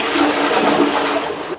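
A household toilet flushes up close in a loud, continuous rushing gush of water that holds steady for over a second before beginning to taper.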